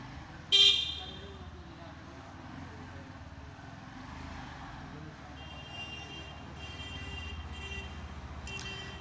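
A new 2025 Bajaj Platina 100 motorcycle is started with one touch and ridden off in first gear, giving a brief sharp burst followed by a steady low engine drone.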